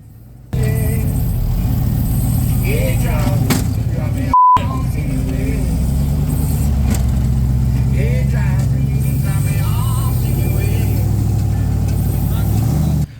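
An off-road rock crawler on a King of the Hammers trail revs hard in repeated rising bursts as its tires spin against the rock, loud and close, with a short beep partway and a voice talking over it.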